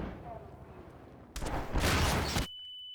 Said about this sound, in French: j'adore le petit son à la grenade là.